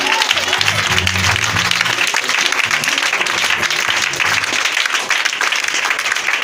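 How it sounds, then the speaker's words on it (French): Congregation applauding during a French-language church service, steady dense clapping filling the space throughout, with music and a voice carrying underneath. "Est-ce que tu peux l'acclamer ce matin?"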